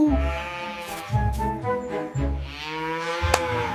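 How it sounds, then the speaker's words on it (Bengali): A cow moos in a string of short, wavering, bleat-like calls, close and fairly loud, with brief pauses between them. "গরু বলে মো"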